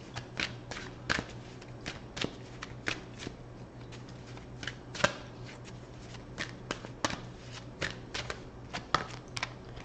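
Tarot cards shuffled and pulled from a deck during a reading, giving a steady run of crisp riffling flicks and soft slaps, close and fairly quiet, over a low constant hum with no talk.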